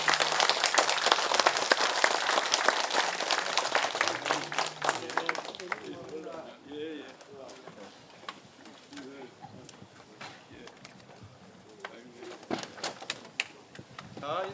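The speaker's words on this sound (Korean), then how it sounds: "큰 박수로 환영해 주십시오." A hall audience at a forum on the 2.28 democracy movement applauds to welcome a guest, a thick burst of clapping for about six seconds that gives way to someone talking.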